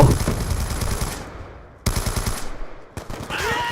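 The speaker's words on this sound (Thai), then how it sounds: "เอายิงเลยนะปอบโบโบโบโบโบโบ" Rapid automatic gunfire from Call of Duty: Black Ops II, with loud sustained bursts that cut off near the two-second mark, then resume for another burst and end in a short reload or equipment clatter.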